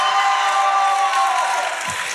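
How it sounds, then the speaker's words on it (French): Audience applause and cheering for contestants from the South at a televised Réunion singing competition, a dense, steady wash of clapping and crowd noise that holds loud throughout and eases slightly toward the end. "Applaudissements pour le Sud"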